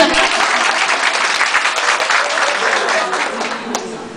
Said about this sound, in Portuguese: A salva de palmas para o Bernardo também.